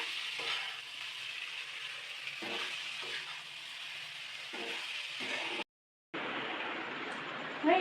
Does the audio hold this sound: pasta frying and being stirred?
yes